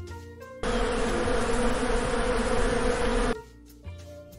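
A bee-buzzing sound effect in a children's lesson about honeycomb shapes: a loud, dense, steady drone that starts abruptly, holds for almost three seconds, then cuts off, with no voices over it.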